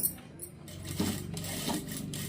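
Sewing machine running a stitch along a folded fabric edge for a hem, a steady mechanical whir with periodic pulses, close and fairly loud, with no talking.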